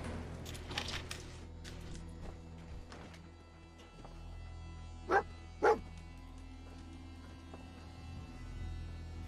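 Dog barking in the video game Fallout 4, two sharp barks close together partway through, over a low steady game-ambience hum with some faint rustling earlier.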